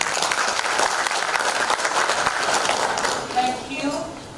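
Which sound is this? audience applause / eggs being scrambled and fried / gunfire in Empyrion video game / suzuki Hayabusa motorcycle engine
audience applause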